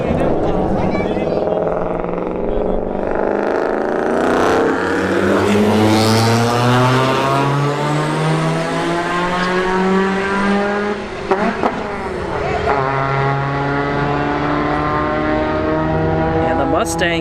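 A Ford Mustang and a Chevy Cobalt accelerating hard side by side in a street drag race at a motorsports park, loud engines climbing steadily in pitch through upshifts, with a voice talking over the roar.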